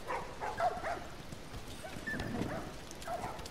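A few short dog barks and yips from The Last of Us sound off at middle distance over busy game ambience and hoof-like clatter, spaced irregularly through the moment.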